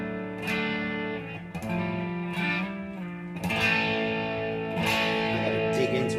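An electric guitar played through an amp set just barely crunchy, light distortion on strummed chords that ring out in a steady, sustained wash with a few fresh attacks, moderately loud and alone.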